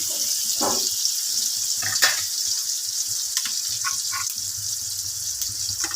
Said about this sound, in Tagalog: Igisa ko ng ating sibuyas at bawang.